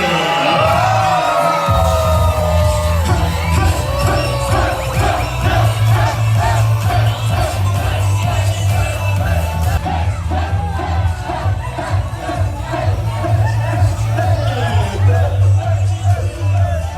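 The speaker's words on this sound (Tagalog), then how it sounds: "ating ibigay ang pinakamalakas na hiyawan" Wedding reception guests cheer loudly for the newlyweds as they are announced, a dense crowd roar of whoops and yells that holds for the whole span, with a booming host voice and music underneath.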